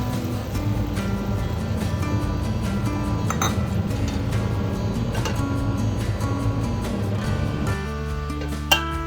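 A lid is set on a non-stick pan of pan-fried buns, making a couple of sharp clinks, one midway and one near the end, over a steady background of music and low sizzling.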